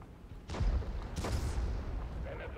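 Two heavy booming cannon shots from a T-55 tank in a tank combat game, deep and loud, the second following about half a second after the first, with a low rumble lingering beneath.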